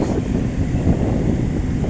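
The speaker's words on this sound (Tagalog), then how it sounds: "medyo mahangin-hangin ang sarap ng hangin lapit sa dagat" Steady, broad wind rumble near the sea buffets the microphone throughout, a constant low roar with no clear gusts and no voices.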